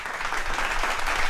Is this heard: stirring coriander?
no